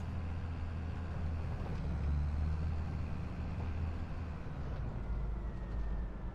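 Steady, loud low-pitched engine drone from a farm vehicle in a farming video game, running at top speed yet sounding like an idle, continuous and unchanging with no talk.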